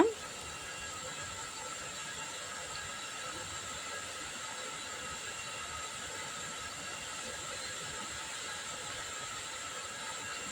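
Shallots, garlic cloves and ginger sauté in a pan for a tomato kuzhambu, giving off a steady, even hiss of sizzling that holds at a constant level throughout, with no voices over it.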